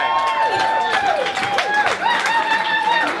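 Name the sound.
wedding guests applauding Nikki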